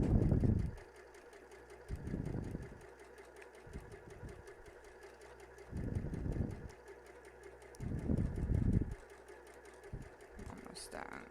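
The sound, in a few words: sewing machine sewing down the side of a face mask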